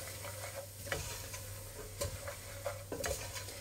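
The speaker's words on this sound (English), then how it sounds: "You just need to cook those spices off for a minute or two." Oregano and spices sizzle in a pan for a chilli con carne while a utensil stirs and taps against it every second or so. The sound is close and fairly quiet, with no talking.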